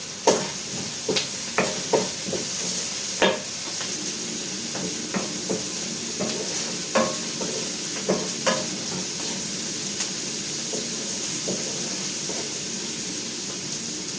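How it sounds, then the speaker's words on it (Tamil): Onions and fennel seeds sautéing in a pan for fish curry, a continuous sizzle with a run of sharp spoon clacks and scrapes against the pan, no speech. "வெங்காயம் வதங்கி கொண்டு வருது"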